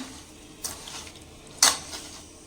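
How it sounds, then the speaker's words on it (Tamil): Masala marinade mixed by hand in a bowl: two brief soft clinks or scrapes against the bowl over quiet room background, with no one talking. "ஸோ இதை நல்லா மிக்ஸ் பண்ணிக்கலாம்."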